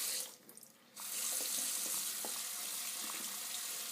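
Tap water runs steadily into a sink as a makeup brush is rinsed, starting after a quiet moment with soft handling sounds and continuing as an even, close splashing rush.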